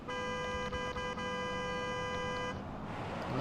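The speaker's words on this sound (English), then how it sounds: "Sounds like a car horn." A car horn in the BeamNG driving game blares in one steady, sustained tone with slight flutters, then cuts off, leaving a low rumbling background.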